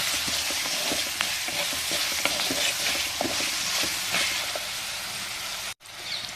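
Onions fry with turmeric in a pan, giving a continuous crackling sizzle with scattered pops and stirring scrapes. The sound cuts out for a moment near the end, then resumes.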